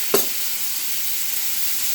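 Tomatoes hit a hot pan of fried onions with a brief stir, then a steady close sizzle of frying fills the rest, with no talk over it.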